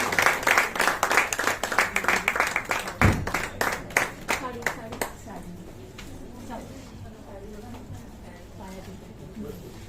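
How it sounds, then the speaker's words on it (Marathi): Applause at an office retirement celebration, a crowd clapping loudly and rhythmically for several seconds before it thins and fades into room murmur and talking. "तरी आजच्या या उत्सवमूर्तीसाठी आपण सर्वांनी जोरदार टाळ्यांचा स्वागत करावं।"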